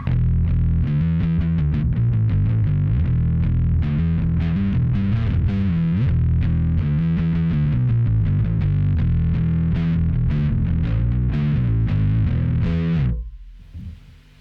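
A Fender Pawnshop Mustang bass plays a continuous, busy riff through distortion, loud and close, with dense rhythmic note attacks for about thirteen seconds before ringing out and fading at the end.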